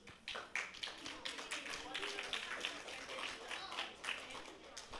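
Many hands clap at a primary school awards ceremony, a steady dense patter filling the room from start to finish while a voice talks over it.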